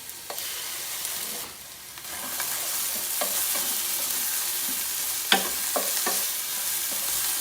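Onions sauté in a pan with garlic and minced ginger, a steady close sizzle with occasional utensil stirring clicks and scrapes throughout.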